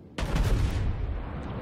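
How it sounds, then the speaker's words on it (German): A heavy booming salvo of big guns from the battleship Texas in World of Warships fires at once, loud and close, with a long rumbling tail fading out. "So, jetzt kommen die Schüsse."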